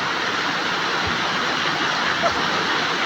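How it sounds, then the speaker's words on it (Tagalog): Heavy rain pouring down during a long storm with flooding, a dense, even roar of falling water that stays loud and unbroken throughout, with no voices standing out. "lakas ng ulan"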